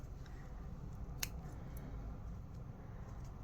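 Scissors snip once through excess sewing threads during a fabric project, a single quick, faint cut over a low steady hum.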